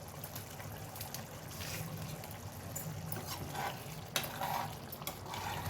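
Mushroom masala curry being stirred in a pan after garam masala is added, a quiet, continuous wet scraping and bubbling with a few faint clinks.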